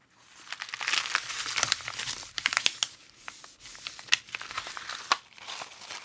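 Paper folded over with flower petals inside for eco dyeing, giving close, irregular crinkling and crumpling rustles with sharp crackles, no talk.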